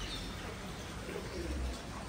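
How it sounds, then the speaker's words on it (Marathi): Birds coo and chirp faintly around a resort swimming pool in Jodhpur, Rajasthan, soft calls set against a quiet, steady background hiss. "आजूबाजूला पक्ष्यांचा किलबिलाट आहे,"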